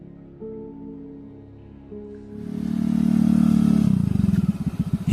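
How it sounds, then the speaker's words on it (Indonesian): A motorcycle approaches from a quiet, still backdrop, its engine growing louder and rumbling close, ending in uneven pulsing as it slows and stops. "Hingga akhirnya suara motor memecahkan lambunanku."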